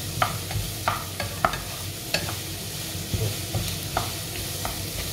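Garlic gently sizzles in a pan while being warmed for tomato and lentil soup, a soft constant frying hiss with periodic spoon scrapes and taps, close up and without voices.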